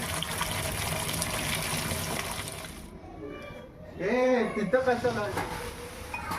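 Tap water runs and splashes while potatoes are washed in a home kitchen, a steady gush giving way to a brief quieter gap and then bubbling, filling flow, with a voice speaking over it.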